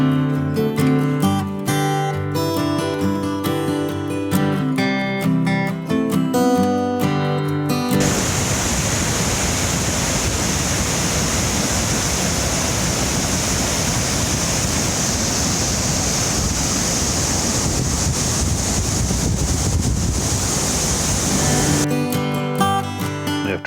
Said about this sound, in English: Got up close to the waterfall.